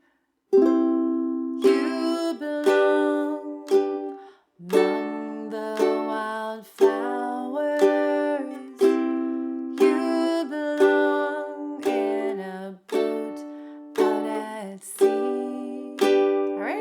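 A ukulele strums a steady chord progression in pairs of downstrokes, two even strums per chord, bright and close with no voices.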